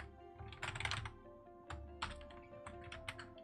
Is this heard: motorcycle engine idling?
no